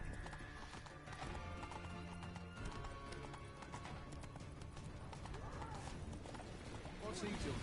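Rhythmic clip-clop of horse hooves at a steady walk in The Witcher 3: Wild Hunt, fairly loud and continuous over a busy background of ambient noise.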